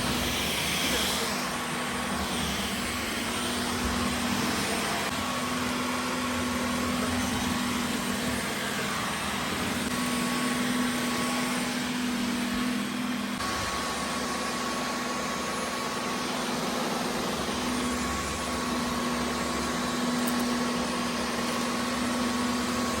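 A Dyson cordless vacuum cleaner runs continuously with a steady high whine and airy rush, shifting pitch around the middle as the setting or brush changes.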